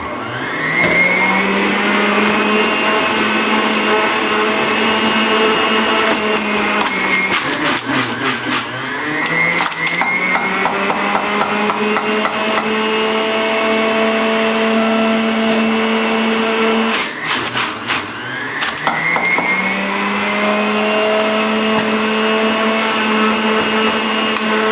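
An electric juicer grinds whole organic apples, a loud steady motor whine that dips and strains each time a new apple is pushed in, then revs back up, running continuously.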